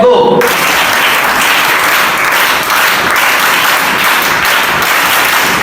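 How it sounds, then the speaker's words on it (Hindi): A group performs a scout welcome clap at a rover scouts unit formation at a college: dense, loud, steady group clapping that fills the whole stretch with only a brief sharper start. "हम जो है एक वेलकम क्लैप करेंगे इन तमाम लोगों के लिए जो आपके लिए वक्त निकाल कर यहाँ पर आए हैं। Scout clap, let's go."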